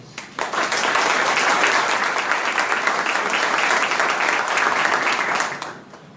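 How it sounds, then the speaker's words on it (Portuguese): A large audience applauds at a lawyers' commemoration event in Guarulhos, a dense, steady wash of clapping that swells in quickly, holds loud for about five seconds, then fades out. "Por favor, uma salva de palmas a eles."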